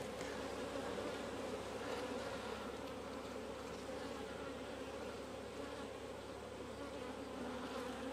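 Honeybees swarm and buzz at an open hive during a check on a new queen, a dense, steady, close drone of many insects that holds level throughout with no voices.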